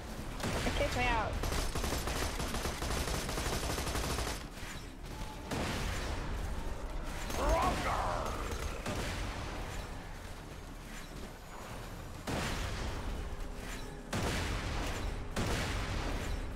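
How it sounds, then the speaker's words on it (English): Explosions and rapid gunfire in the video game Borderlands 2, loud sustained bursts of booming blasts and shots with short breaks, and a voice speaking occasionally. "How is that exploding on us?"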